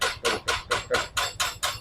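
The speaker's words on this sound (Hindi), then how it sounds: "मशीनरी भी काम कर रही" Construction machinery taps at a building site near a chowk, a loud, evenly spaced series of seven sharp knocks at a quick steady rhythm, with no talking.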